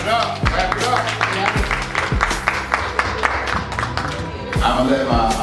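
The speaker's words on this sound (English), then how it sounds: "All right, clap it up" Audience clapping at a men's conversation gathering, steady and fairly loud throughout with a few sharp slaps standing out, and a brief surge near the end.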